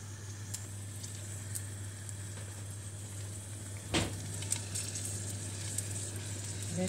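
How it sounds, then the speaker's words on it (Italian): Garlic frying in a pan gives off a soft, continuous sizzle at low level, with a brief louder crackle partway through and a steady background hum. "Vedete? L'aglio sfrigola."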